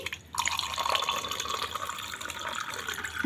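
Yogurt lassi pouring in a steady liquid stream, with splashing and trickling that carries on without a break at moderate volume.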